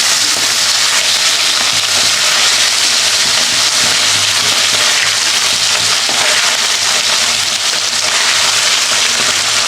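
Pieces of fresh river Bhola fish fry lightly in hot oil in a wok, giving a loud, dense, unbroken sizzle that holds steady throughout with no talking.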